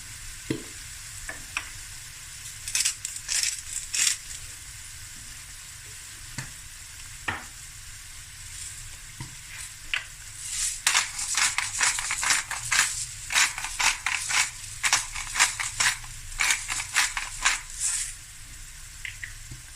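Onions, spring onions and garlic frying in a pan with black pepper and salt for a prawn dish: a low steady sizzle broken by clusters of scraping, clattering stirring strokes that grow busier and louder in the second half, with no talking.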